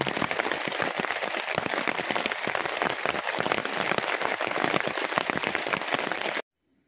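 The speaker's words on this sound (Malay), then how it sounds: "Saja guys, hujan." Steady heavy rain pattering on a surface at a family campsite in Kuantan, Pahang, dense and continuous, cutting off abruptly near the end.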